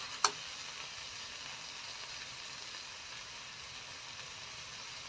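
Pork with egg and mayom leaves stir-frying in a pan gives a steady, close, even sizzle that runs throughout, with a single sharp click of a utensil near the start and no voices.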